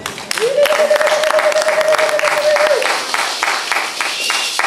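A church congregation breaks into sustained applause and cheering during a sermon, a dense wash of clapping lasting several seconds, with a voice rising briefly over it.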